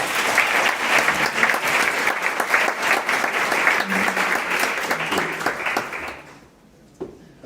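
Sustained applause from a keynote audience welcoming the speaker to the stage, dense and steady clapping from a full room that fades out near the end.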